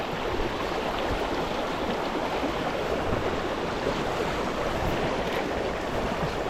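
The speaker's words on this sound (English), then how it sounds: "It's windy." Wind blowing across open water during fly fishing on the Clyde, a steady broadband rush like surf with constant low microphone buffeting, moderately loud and unbroken, with no voices.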